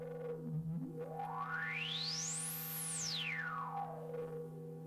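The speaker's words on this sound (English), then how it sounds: "the way that you can make a sweep very easily is to take some resonance and sweep the filter" A resonant filter sweep on a Behringer Neutron synthesizer glides steadily up to a shrill peak and back down over a sustained droning tone, alone and moderately loud.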